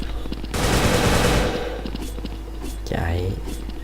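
Rapid automatic gunfire in a close-combat shooter video game: a loud, dense burst lasting about a second, followed by scattered thuds, footsteps and a shorter burst near the end.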